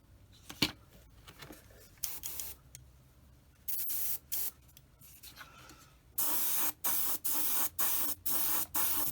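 Acrylic primer hisses from a spray can, first in uneven bursts and then in a run of short, regular, loud sprays, close to the microphone.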